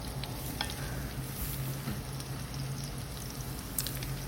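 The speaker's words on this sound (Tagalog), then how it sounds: "Tapos, halu-haluin lang hanggang lumabas ang kanyang katas." Garlic fries in a pan with a dense, steady crackling sizzle, and a spoon stirs it now and then with faint scrapes.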